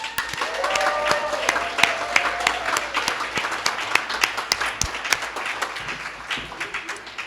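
An audience applauds a graduating community leadership class with dense, sustained clapping that fills the room at fairly loud volume. Scattered individual claps stand out, and faint voices sit underneath.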